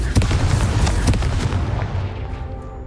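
Confringo explosive spell blasts in the Hogwarts Legacy video game: several sharp, loud booming bursts in quick succession, then a rumbling tail that slowly fades.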